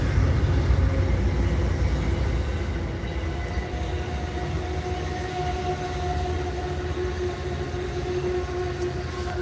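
A train rolls steadily past in the open during a stormy day in Louisa, Virginia, a loud continuous rumble of rail cars with low clanking throughout and no horn.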